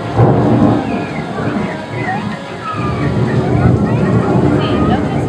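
A thunderstorm special effect in a jungle-themed restaurant rumbles loudly with rolling thunder and a wash of rain-like hiss, while people's voices chatter underneath throughout.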